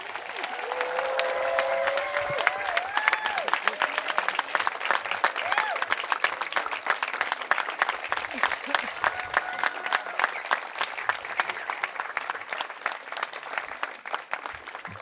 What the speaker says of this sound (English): would you please join me in one final round of applause for the 2018 Oak Grove 8th grade graduates